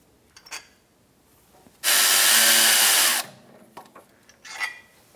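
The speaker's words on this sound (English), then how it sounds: "I'll take out these bolts first." A power tool spins out bolts on a 2002-2006 Honda CR-V 2.4L four-cylinder engine, giving one loud, steady whir of just over a second between faint clicks and handling noises.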